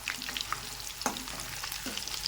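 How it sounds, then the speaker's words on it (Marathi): Potatoes for dum aloo fry in oil over a full-high gas flame with a steady, even sizzle and crackle throughout, with a few soft stirring scrapes and no voices. "असे असेच गुलाबी गुलाबी फ्राय होऊ द्यायचे आहेत आपल्याला"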